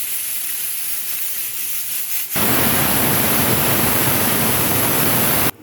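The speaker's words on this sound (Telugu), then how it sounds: "ఇవి కూడా విజిల్స్ వచ్చేసినాయండి, ఆపేస్తున్నాను" A pressure cooker starts with a softer hiss, then bursts into a loud, sustained rush of escaping steam lasting a few seconds before it cuts off abruptly.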